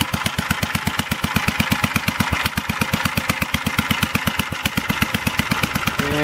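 A 1947 Gravely tractor engine idles close by, loud and steady, its firing pulses beating in a fast, even rhythm with no voices over it.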